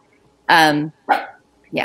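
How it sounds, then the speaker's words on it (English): A dog barks three times in quick succession indoors, loud and close, with no talking over the barks. "my dog is deciding that there's danger afoot"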